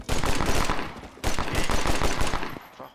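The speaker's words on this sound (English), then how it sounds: "If I hold down the trigger, it keeps firing." A pistol in Red Dead Redemption firing in rapid, continuous bursts, loud and close, two quick volleys of closely spaced shots broken by a brief pause, with no talking over them.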